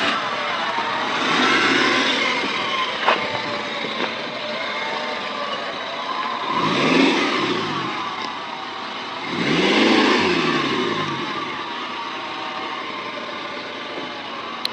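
A car engine rumbles at low speed while parking, idling steadily with a few swelling revs as it maneuvers, close and fairly loud, no talking.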